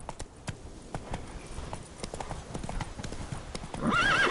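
A horse called Roach gallops with steady, rapid hoof clip-clop, close and clear, while a whinny or neigh rises near the end over a brief burst of noise.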